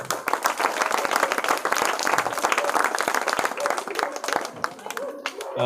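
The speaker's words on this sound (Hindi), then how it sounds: "बच्चों एक बार ना खुद के लिए जोरदार तालियां बजाओ।" Schoolchildren at an outdoor education campaign event in Adampur clap loudly and energetically, a dense burst of applause that tapers off near the end, with some voices mixed in.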